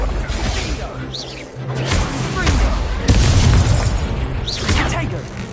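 Incendio fire spells go off in a Hogwarts video game: rolling booms and fiery whooshes fill the soundscape, with voices mixed among the blasts.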